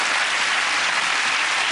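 A studio audience breaks into loud, dense applause, a steady wash of clapping that holds evenly from start to finish with no talking over it.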